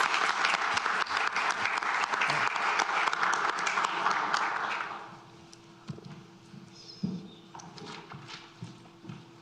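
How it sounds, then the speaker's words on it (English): Applause at a school board meeting rises as a dense clatter of clapping for about five seconds, then thins to a few scattered claps and room noise. "A round of applause."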